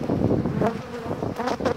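Honeybees swarm around open twelve-frame Dadant-Blatt hives during a spring inspection near rapeseed fields, a dense, steady buzzing close to the microphone with individual bees swelling louder as they fly past.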